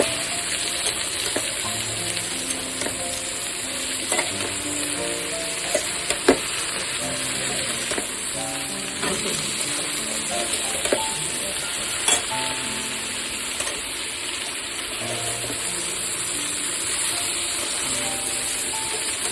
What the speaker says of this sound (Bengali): ডাটা আলু দেওয়ার পর লবণ আর হলুদ করেছে। এগুলো ভালো করে নাড়াচাড়া করে দিচ্ছে।